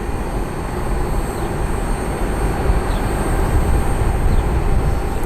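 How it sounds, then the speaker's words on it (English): A Cessna 172 taxis at Cleveland airport, its engine a steady, distant broadband rumble under wind-like airport noise, holding level for the whole stretch with no voices. "I didn't even see the 172 that's taxiing there come in."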